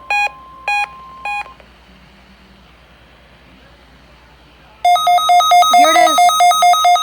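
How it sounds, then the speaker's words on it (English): A NOAA weather radio warning alarm weekly test from the Grand Rapids weather service opens with three short bursts of shrill data tones, followed after a quiet gap by a loud, sustained, pulsing alarm tone. "The signal you just heard was our weekly test of the No Weather Radio Warning Alarm System."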